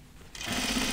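A sewing machine starts up and stitches fabric for a raglan top, the motor whirring steadily and close by after a brief quiet moment.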